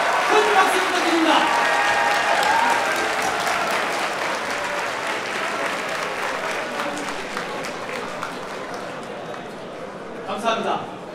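Applause for guests at a high school graduation ceremony, a broad sustained clapping from the hall that stays steady and slowly thins, with a voice at the start and a brief burst near the end.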